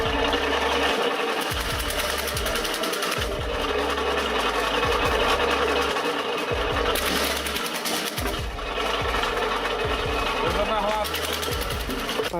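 A firewood processing machine with a 3-kilowatt electric motor and a 6.5 horsepower combustion drive engine cuts branches up to 50 millimetres thick, making a rapid buzzing mechanical chatter broken by repeated thumping cuts, with a voice speaking over it.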